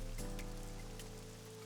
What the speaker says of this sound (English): This rain sure is awful, huh?